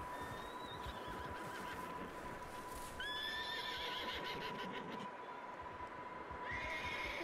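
A wild horse in the Red Dead Redemption 2 game whinnies in rising, bright cries over a steady bed of galloping hooves and game ambience, with the neighs recurring several times at moderate loudness.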